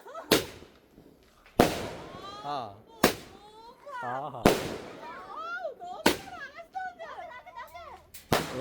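Sharp firecracker bangs go off one after another during Vishu celebrations, six loud cracks spaced a second or so apart, with children's excited voices and chatter in between.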